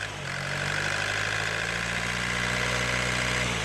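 A Ford Mondeo engine with a P2263 fault, in limp mode with no power, revs steadily after a carbon clean; a loud, sustained mechanical drone with low hum runs evenly throughout without any talking.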